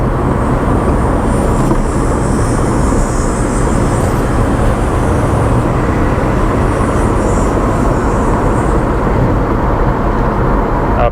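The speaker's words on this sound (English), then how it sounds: "Okay, this thing drives fantastic." A Chevy S-10 pickup truck driving, steady loud road and engine rumble with broadband wind and tire noise throughout, no speech.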